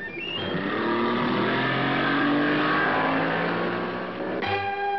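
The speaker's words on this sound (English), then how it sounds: "This is the Chrysler 15-foot runabout with a Chrysler 75-horsepower motor" A Chrysler 15-foot runabout boat powered by a Chrysler 75-horsepower outboard motor runs at steady high throttle, a loud continuous engine drone with a shift in pitch near the end, no talk over it.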